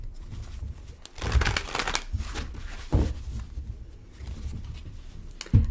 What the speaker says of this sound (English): I can shuffle, cut, shuffle again, cut.